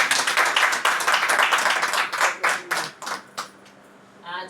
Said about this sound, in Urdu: کلام کے لیے ہم زوردار تالیاں۔